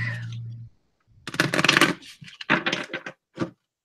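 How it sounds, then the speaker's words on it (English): Cards riffle and slap together in quick bursts after a brief low hum, close and crisp, with short gaps between shuffles. "let me shuffle up the deck."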